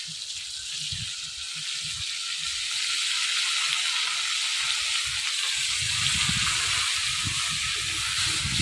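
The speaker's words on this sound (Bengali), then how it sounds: "টমেটো কিছু সময় ভেজে নিচ্ছি" Tomatoes frying in a pan give a steady, moderately quiet sizzling hiss that holds throughout, with soft low bubbling underneath and no voices.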